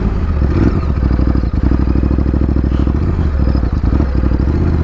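A Ducati Desert X motorcycle riding at very low speed, its engine a loud steady throbbing rumble close by, with some mechanical clatter and no voices over it.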